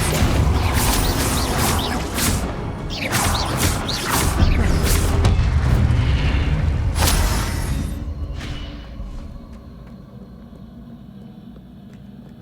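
In Hogwarts Legacy at Rookwood's Castle, a Depulso spell fires amid a dense series of loud magical whooshes, crashes and booms, which fade to a quieter rumble toward the end.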